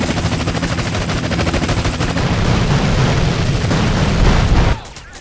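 Loud bursts of gunfire and explosions in GTA San Andreas as a police helicopter blows up, a dense continuous barrage that cuts off abruptly near the end.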